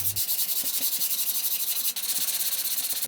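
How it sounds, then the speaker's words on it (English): Wood is sanded lightly by hand with rapid, even back-and-forth rubbing strokes that make a steady, close, gritty hiss. It pauses briefly once, then carries on, with no talk. "When the accelerator was dry, I lightly sanded the wood and removed the dust with my shop vac."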